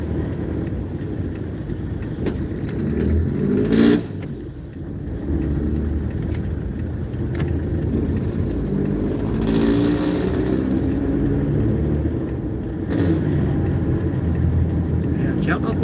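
A car drives along Marcos Highway, its engine and tyre noise a steady road hum with occasional swells as it passes other traffic, while a person talks over it throughout.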